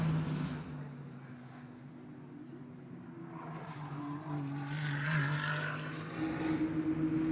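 Ferrari Challenge race car at Sonoma under qualifying, its engine drone steady and moderately distant, building slightly toward the end as it passes.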